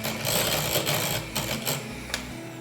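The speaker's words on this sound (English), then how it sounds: "In the other bowl, beat egg yolks." An electric mixer beats egg yolks in a bowl, a steady close whir with a light rattling texture that carries on through the short stretch without any voices.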